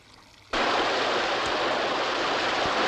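Water rushes in a steady, loud, broadband stream through an underground qanat irrigation tunnel. It starts abruptly after a quiet moment and continues unbroken with no voices.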